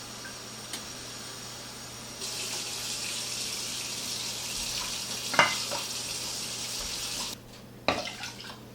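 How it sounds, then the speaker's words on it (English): Water runs from a tap to measure two cups for a pressure cooker dish of hamburger rice hotdish, a steady hissing flow that brightens midway and stops with a few clunks. "And just measure out 2 cups of water."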